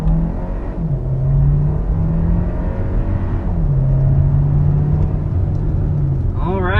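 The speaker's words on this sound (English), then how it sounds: "there's full throttle in this 2023 Kia Sportage Hybrid" A 2023 Kia Sportage Hybrid accelerates at full throttle from inside the cabin, a loud steady engine drone rising in pitch through gear changes, with a voice talking over it near the end.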